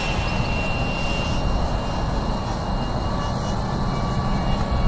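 An RC MiG-15 model jet fitted with wheels roars past on a windy day, a loud, steady high-pitched turbine whine with broad rushing noise, no talking heard.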